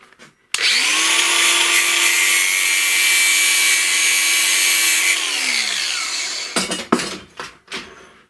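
An angle grinder cuts through a threaded part, likely a brass fitting, with a loud, sustained high whine for about five seconds that winds down as the disc slows, followed by a few scraping knocks.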